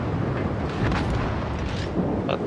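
Battleship guns firing in World of Warships, Jutland map: a dense, booming roar of naval cannon blasts with rumbling low end, continuous and loud throughout, no talk.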